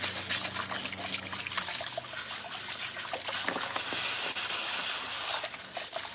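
Water gushes steadily from a tap with a hissing, splashing sound, close and continuous, with a few small clatters mixed in.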